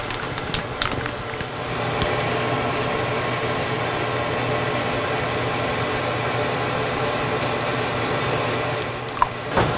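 Spray painting a coat inside an extraction chamber: a continuous close hiss of the spray gun runs steadily for several seconds, with a few faint clicks at the start and end and no talk.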